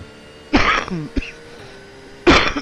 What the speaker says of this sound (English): Really bad cough.